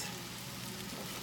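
Cauliflower rice frying in a hot pan while being stirred gives a steady, close, fairly quiet sizzle with a soft hiss that holds evenly throughout, and no voices.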